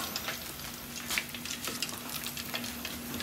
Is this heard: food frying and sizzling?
yes